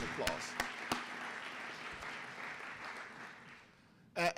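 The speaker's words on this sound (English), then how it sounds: "I really applaud you and give you all a round of applause." An audience gives a round of applause at a business announcement, a steady wash of clapping that fades out toward the end before a brief voice cuts in.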